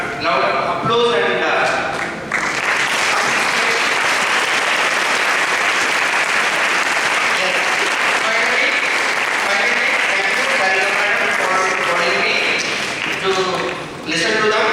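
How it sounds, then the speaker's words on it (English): Loud, sustained audience applause at a youth parliament event, a thick wall of clapping that swells and holds for many seconds, with voices and cheering mixed in at the start and end. "really gave a loud applause"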